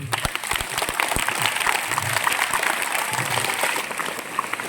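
Audience applause for a Tamil orator's speech, brisk scattered clapping from a crowd with sharp individual claps standing out and a few voices mixed in.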